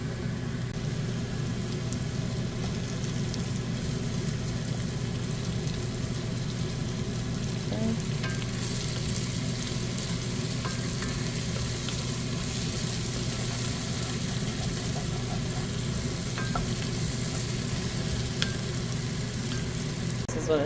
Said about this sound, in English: and then I'm going to add the garlic